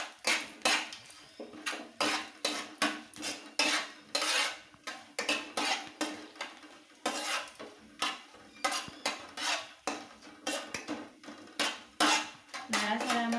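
A spoon scrapes and knocks against a pan while black cumin, two bay leaves, two dried chillies and whole garam masala are stirred for Bengali rui fish kalia. The strokes are quick, rhythmic and close, with a faint sizzle between them.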